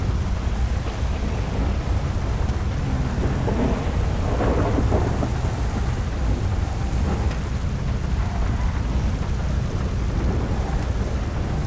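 Heavy rain pours continuously in the GTA 5 video game while thunder rumbles underneath, forming a dense, steady storm wash with no voices.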